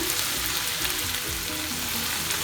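Ginger, garlic, sliced onion and green chillies sauté in a pan for Kerala-style pork roast, a loud, dense and steady sizzle of frying with faint stirring underneath.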